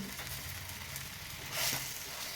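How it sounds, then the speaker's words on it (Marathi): An egg and wheat flour paratha roasts on a griddle over a medium flame, making a faint, steady sizzle with a brief louder crackle or shuffle partway through. There is no talk over it. "आता पुन्हा हा पराठा आपल्याला दुसऱ्या बाजूने दोन मिनिट छान असा खमंग भाजून घ्यायचा आहे"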